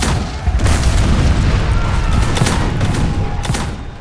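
Naval cannon fire from a ship's broadside in a sea battle between a British ship and the French, a loud, dense, continuous roar of booming blasts with no gaps.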